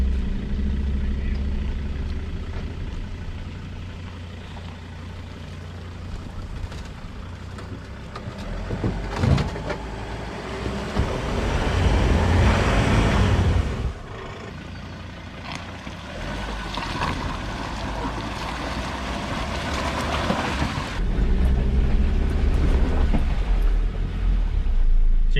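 A 4x4 in first gear low range churns slowly through a deep rain puddle on a muddy track, engine droning low with bursts of sloshing water and thumps, loud and close throughout.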